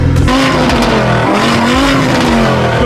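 Sports car engines idling and revving near an Audi R8 and a Lamborghini Huracan on a Dubai street, a loud steady throaty rumble with a rising rev swelling at the middle and end.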